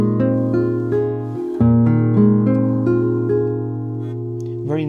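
On a classical guitar, a barré chord played with a hinge bar rings out as several arpeggiated and strummed notes, sustaining warmly with a final bright strum, heard close and alone.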